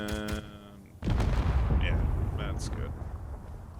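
Gunfire in the Space Engineers space game: a tone sounds first, then heavy booming shots hit abruptly and roll into a sustained loud rumble of rapid fire that slowly fades.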